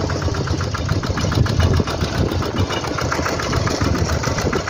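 A walk-behind tractor engine runs in second gear while towing a cart, giving a loud, close, steady chugging drone with a fast, even pulse throughout and no voices.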